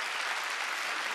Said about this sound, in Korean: 박수 치려면 세게 치고